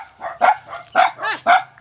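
A dog barks in a rural Philippine yard, a run of about six sharp, close barks and yips at an even, quick rhythm with short gaps between them.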